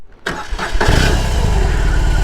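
A BMW R18 boxer motorcycle engine cranks briefly, fires and catches, then settles into a loud, deep, steady idle close by.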